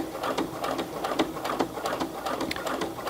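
A Brother PC 420 sewing machine stitches through a heavy Levi's jeans hem, running in a fast, continuous mechanical rattle of needle strokes at close range.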